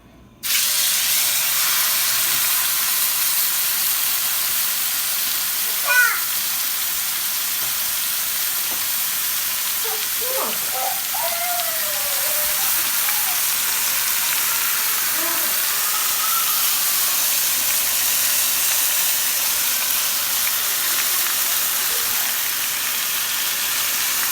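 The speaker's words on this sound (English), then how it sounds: "I got some olive oil in here so we can sear this meat so we can lock in flavors." Roast meat searing in hot olive oil in a pan gives a steady, even sizzling hiss that runs unbroken from start to finish, with no talking over it.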